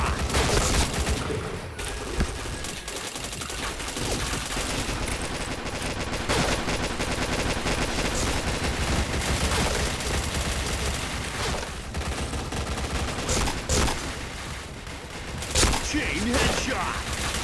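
Rapid bursts of video game gunfire crackle almost continuously, with dense automatic volleys and sharper single shots standing out near 6, 12 and 15.5 seconds.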